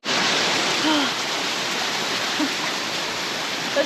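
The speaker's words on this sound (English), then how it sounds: "There's a waterfall under here as well." A waterfall in Portugal's Serra da Estrela mountains, a dense steady roar of falling water heard up close, with a faint voice briefly in the background.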